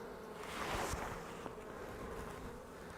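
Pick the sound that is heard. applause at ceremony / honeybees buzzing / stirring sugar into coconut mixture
honeybees buzzing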